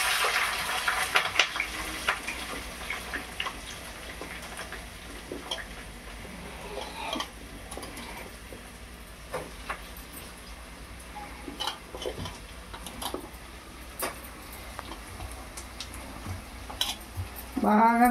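Onions and green chillies fry in a pan for a Rayalaseema mutton biryani, a soft steady sizzle broken by intermittent ticks and scrapes of stirring, fairly quiet throughout.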